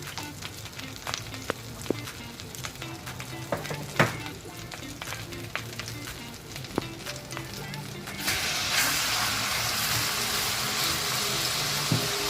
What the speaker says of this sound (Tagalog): And then add on the marinated chicken.